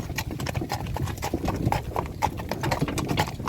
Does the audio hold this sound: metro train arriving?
no